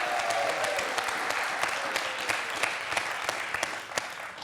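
A studio audience on a French quiz show applauds steadily, a dense mid-level patter of many hands clapping with a few sharper individual claps standing out, continuing without pause and without voices.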